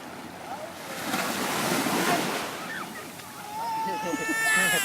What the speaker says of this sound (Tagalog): Watch na lang ng waves.